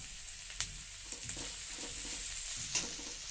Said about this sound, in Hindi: अच्छे से इसे तेज आंच पे अच्छे से भून लेना है